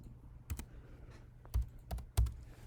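Dimensions are typed on a computer keyboard in SketchUp: a handful of sharp key clicks close by in the quiet, some in quick pairs, with no speech.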